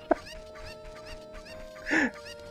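Two quick chicken clucks in The Legend of Zelda: Ocarina of Time, one short and sharp at the start and a louder squawk near the end, over a quiet humming background.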